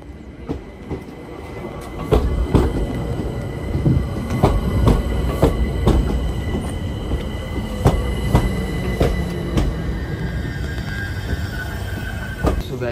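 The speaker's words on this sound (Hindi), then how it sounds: "ट्रेन चालू है आज" A train running on rails in the UK, a steady rumbling roll with repeated sharp clacks and occasional metallic squeals from the wheels, heard close and fairly loud with no talking.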